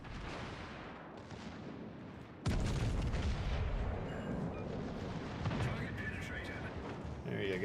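Naval guns fire in a warship video game, starting with a heavy booming salvo that gives way to a dense rumbling wash of blasts, while a player talks over it.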